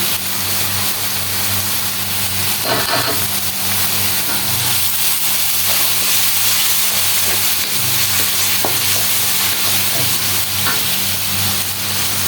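Garlic frying in hot oil previously used for frying fish, a loud, continuous sizzle with occasional stirring scrapes and clicks, close and steady throughout.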